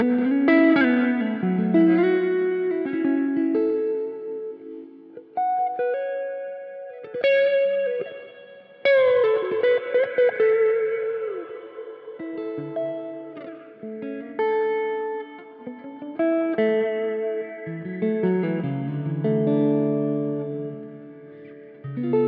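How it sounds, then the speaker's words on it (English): Reverb effect from a Line 6 DL4 MkII pedal on a guitar in F sharp minor, ringing notes and chords that bloom and decay into a lingering wash, moderately loud with no talk. "It's a lovely reverb."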